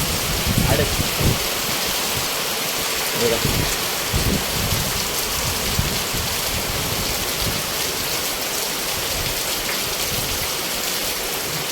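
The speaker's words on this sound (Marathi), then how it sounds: "आत्ता जरा पाऊस पडतोय" Steady monsoon downpour in coastal Konkan, a dense even hiss of rain falling on surfaces with occasional louder drips and splashes, continuous and close throughout with no talk.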